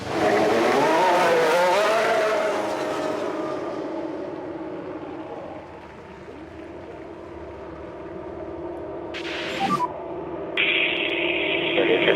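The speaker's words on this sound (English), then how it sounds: "Let's get a car out on the track for its first run and see how it goes." An open-wheel race car in the F1 Manager 23 video game roars out onto the track, loud at first, its engine note sweeping and then fading into a softer drone. Sharper synthetic noises follow near the end.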